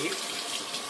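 Steady tap water splashes into a kitchen sink as a bowl is washed, a close, continuous hiss without pauses.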